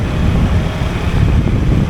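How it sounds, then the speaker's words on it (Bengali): Strong wind buffeting the microphone, a continuous low rumbling roar with no voices. "কিন্তু বাতাসটা এত ঠান্ডা আসতেছে"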